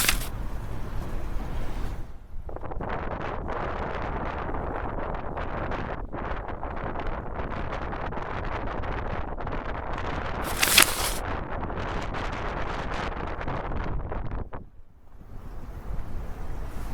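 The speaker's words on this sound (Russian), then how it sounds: "Ветер порядка 25 узлов." Strong wind of about 25 knots buffets a boat riding at anchor at sea off Naxos, a steady loud roar with rushing gusts and wind noise on the microphone, broken by brief lulls.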